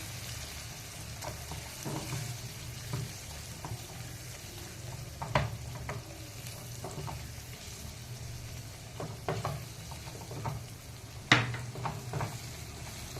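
Spice tempering sizzling in oil for sambar made with mixed dal, a soft, steady frying hiss at moderate distance, punctuated by occasional stirring scrapes and light clinks of a spoon on the pot.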